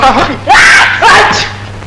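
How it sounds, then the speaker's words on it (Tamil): Two loud, close sneezes follow each other about half a second apart, each a sharp burst of breathy noise that trails off. "ஒண்ணும் இல்ல தும்மல்"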